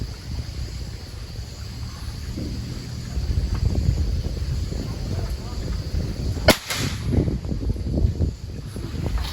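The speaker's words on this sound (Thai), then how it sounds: "อันนี้เราก็ทำการ ทดสอบนะครับลองยิงให้พี่พีเอฟซีได้รับชมนะครับ" A single sharp crack from a CZ .22 LR rifle being test-fired outdoors cuts through the steady rumble of wind noise about two-thirds of the way through, followed by faint handling sounds.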